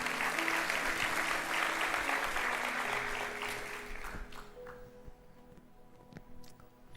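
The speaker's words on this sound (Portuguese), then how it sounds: "Dê o melhor aplauso que você pode dar ao Senhor." Congregation applause during an evening church service, a broad crowd clapping that fades out over several seconds, leaving scattered claps and quiet room sound.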